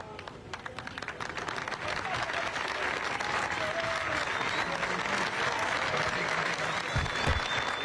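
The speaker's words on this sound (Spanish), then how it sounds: "Aplausos." Crowd applause outdoors at a funeral gathering for a murdered youth in Miramar, steady mass clapping heard at a distance, building slightly and holding, with scattered voices and a few thumps near the end.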